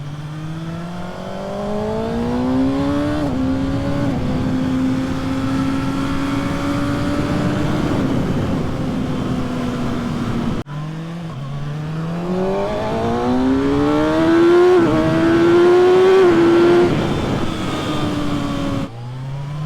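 Kawasaki ZX6R 636 supersport motorcycle with digital tach, engine revving loudly and close in two long rising pulls, pitch climbing and holding before dropping, no talk.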